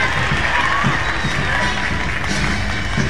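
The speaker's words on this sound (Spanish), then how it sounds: "Un aplauso fuerte, por favor." Outdoor crowd noise at the Quito confraternity parade, a steady dense wash of applause and cheering held at constant loudness throughout, with a low rumble underneath and no clear single voice standing out.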